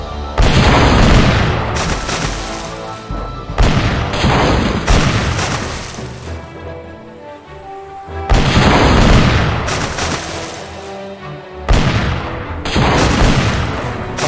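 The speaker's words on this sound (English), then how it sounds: "I only have one cannon left." Heavy cannon blasts boom in The Curse of Monkey Island during a ship battle, several loud thuds in clusters with brief lulls between volleys, no speech.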